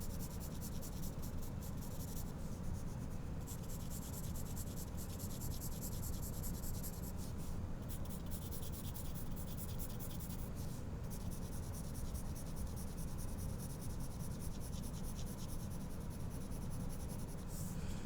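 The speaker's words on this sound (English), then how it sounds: "try again with the value using the crosshatch method and my 2H pencil" Close, steady scratching of a 2H pencil crosshatch shading on paper, strokes running continuously at a soft, even level with no voices.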